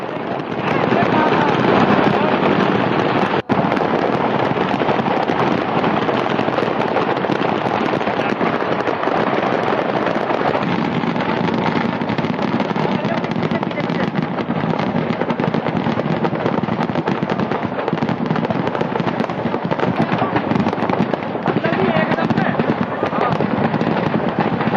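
Firecrackers burst nonstop as a fire sweeps through a cracker market on the Dussehra ground in Faridabad, a dense, loud, continuous crackle of rapid pops with occasional sharper bangs and voices mixed in.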